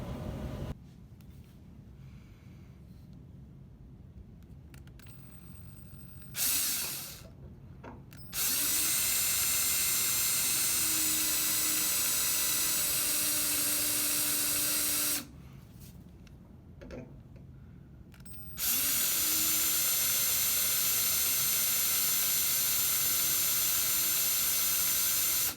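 A Dremel rotary tool grinds a V-groove along a crack in a Vanagon Westfalia pop top ahead of epoxy filling, running in two sustained loud whining bursts separated by short pauses.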